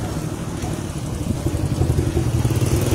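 A motorcycle engine drones close by, rising slightly as it nears, over a windy roadside rumble; there is no talk.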